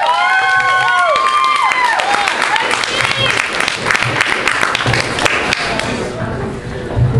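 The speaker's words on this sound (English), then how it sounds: "Let's bring a big hand" Loud crowd applause and cheering for a comedian at a live comedy show at Maewyns in Tork, PA, with dense clapping, whoops and voices throughout, and a spoken voice over the din near the start.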